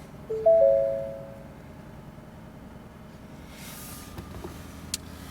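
A 2021 Ford F-150 with a Coyote V8 starts up in a short, loud burst that quickly fades into a low, steady idle, with a couple of light clicks near the end.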